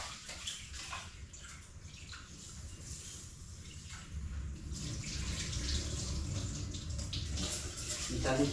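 A household tap runs weakly during low water pressure, a thin steady trickle that grows slightly stronger toward the end, with faint background noise.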